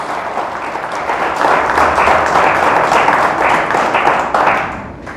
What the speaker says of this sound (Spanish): Le damos fuerte el aplauso al Señor.